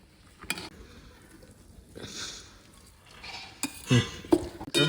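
Coconut being mixed into a laddu mixture in a pan: quiet scraping at first, then sharper clinks and knocks of a spoon against the pan that grow louder toward the end.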